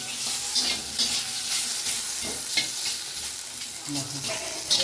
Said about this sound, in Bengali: হালকা করে একটু ভেজে নেবো, বেশি ভাজবো না।